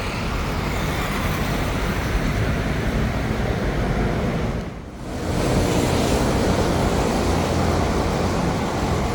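A steady loud rushing roar of a passing monorail train in Kuala Lumpur, briefly dipping midway before the rumble returns, continuous and close with no voices.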